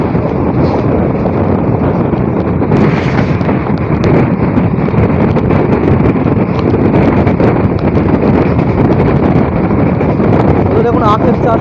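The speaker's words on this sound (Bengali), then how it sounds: "অসম্ভব হাওয়া লাগছে।" Strong wind roars past the open window of an EMU train going over 100 on the Ranaghat–Bangaon line, a loud, constant buffeting rush that masks a voice speaking underneath.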